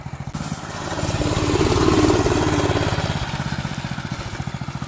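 A rideable remote-controlled go-kart's small engine runs close by with a steady pulsing chug, swelling briefly in revs before settling back to a rhythmic idle-like throb.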